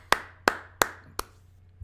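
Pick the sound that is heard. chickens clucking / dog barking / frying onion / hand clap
hand clap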